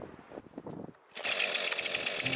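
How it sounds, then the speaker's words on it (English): A newly bought chainsaw at an old log house in Finland starts up after a short quiet gap and runs loud and close with a steady, buzzing drone for the rest of the clip. "A chainsaw."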